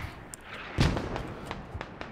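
A grenade goes off in the combat game Squad as a muffled, low thump, followed by scattered lighter pops and distant battlefield noise, with faint voice chatter underneath.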